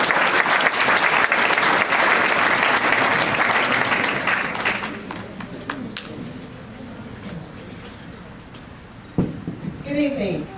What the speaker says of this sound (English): Please give Professor Wright Shippey a round of applause as she comes forward.